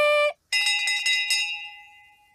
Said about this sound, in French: La cloche! La cloche!